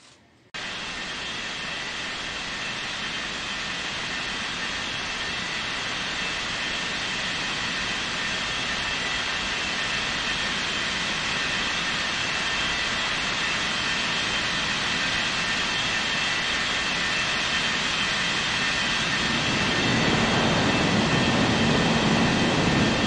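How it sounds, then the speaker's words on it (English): Airliner Indonesia 4563 takes off from runway 35 left, producing a steady, loud jet-engine roar that holds for many seconds and swells noticeably toward the end as thrust builds. "Cleared for takeoff on 35 left"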